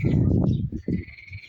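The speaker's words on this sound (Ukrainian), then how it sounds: "чуйте, як жаби вже співають" Frogs croak in a garden pond in spring, a run of low, rough calls overlapping near the start and then coming in shorter bursts, with birdsong faintly on top.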